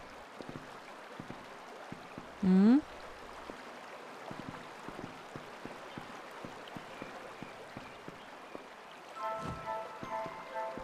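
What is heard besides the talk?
waterfall in video game Kingdoms of Amalur: Reckoning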